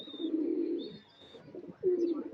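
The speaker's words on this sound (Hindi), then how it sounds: "देखो हमारे कबूतर बाहर फर रहे हैं।" Soft, low pigeon cooing in two rounded phrases with a short pause between, close by, with a faint high whine in the background.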